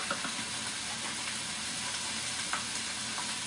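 Pork and onions fry in a pan with a steady, even sizzle and crackle at close range, with faint stirring scrapes and small pops throughout and no talking.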